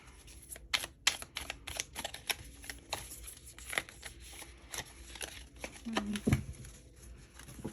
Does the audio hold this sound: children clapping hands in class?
no